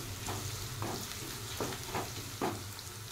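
Turmeric being stirred into ginger-garlic paste frying in a pan for chicken curry, a steady sizzle broken by a few scraping stirs of the spoon, close and alone without voices.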